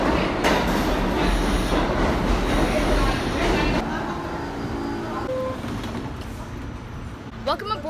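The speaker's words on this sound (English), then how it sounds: "We're about to get on the Q train to Times Square." Loud rumbling of an R46 Q subway train in New York City running along the tracks, with steady rattling and mechanical noise, easing slightly near the end.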